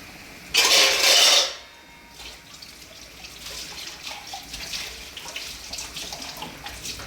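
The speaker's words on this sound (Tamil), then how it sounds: "இந்த ஸ்டேஜில் தண்ணி ஊற்றுங்க." Water gushes loudly into a pan of chicken masala for egg gravy in a single burst of about a second, followed by softer bubbling, dripping and stirring sounds.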